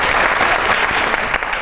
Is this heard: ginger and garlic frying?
no